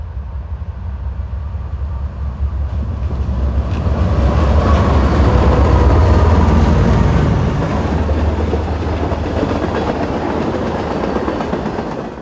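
Westbound freight train 15T, led by locomotive 8765, rolls past with a deep engine rumble that swells to a peak midway, followed by steady clatter of wheels over rail joints that gradually fades.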